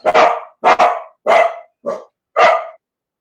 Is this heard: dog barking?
yes